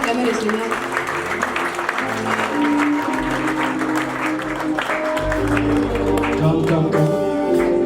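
A church congregation in Kenya claps and cheers in continuous loud applause while a pastor speaks over it and music plays underneath.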